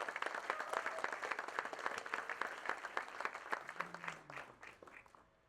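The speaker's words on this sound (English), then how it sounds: "Please clap for them. They've been amazing." Steady audience applause fills a theater at a celebration of life at the Palm Springs Cultural Center, dense clapping throughout that thins slightly toward the end, with a brief low voice underneath.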